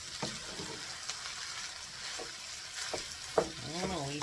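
Chicken fried rice being stir-fried in a pan, a steady close sizzle with scraping stirs throughout, plus a brief clatter near the end.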